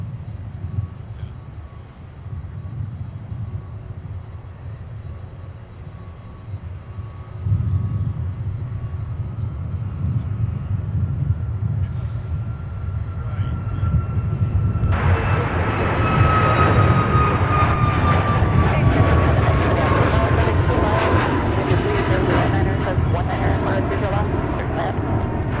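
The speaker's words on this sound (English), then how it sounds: "we got our next departure on the South Parallel, Southwest. Now departing Minneapolis, bound for St. Louis." A Southwest jet departing Minneapolis for St. Louis on the south parallel runway, an engine rumble that swells halfway through into a loud, full takeoff roar with a descending whine. A voice talks over it throughout.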